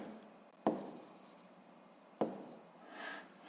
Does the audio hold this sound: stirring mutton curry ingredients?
no